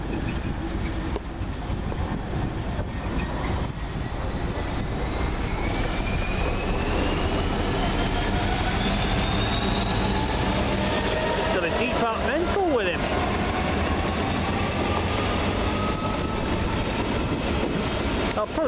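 A Class 66 diesel locomotive, 66723 Chinook in old GB livery, passes at Peterborough with a loud continuous rumble and rolling wheel noise, rising and falling tones as it goes by, with voices talking over it.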